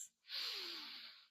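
A single long, deep breath during a yoga hold, airy and close, swelling in quickly and sustained for about a second before fading out, with a soft nasal edge at the start.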